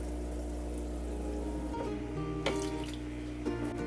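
Aquarium water poured over brine shrimp eggs to rinse them, a steady running splash with a few louder spills and trickles near the end, close and continuous, with no talking.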